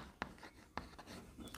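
Chalk or marker tapping and scraping on a classroom board during a chemistry lesson, two sharp strokes standing out over a faint background, with no talking.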